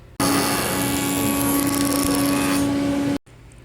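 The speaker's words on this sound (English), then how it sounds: "It is never a good idea to use the joiner without the protective guard." A woodworking jointer runs without its guard, a loud, close, steady high whine with a strong tonal hum lasting about three seconds before it cuts off abruptly, likely while shaping walnut and epoxy coaster stock.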